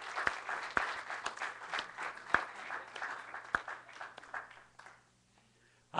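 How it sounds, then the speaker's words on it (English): An audience applauding, a dense patter of many hands clapping that gradually thins out and fades to quiet near the end. "I think we need to give them a round of applause."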